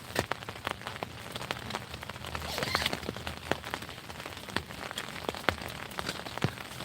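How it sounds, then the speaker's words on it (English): Steady rain falls by a river, with scattered close drops pattering and tapping sharply over a constant soft wash, no voices. "it's raining, man. It's raining. It's pouring out here."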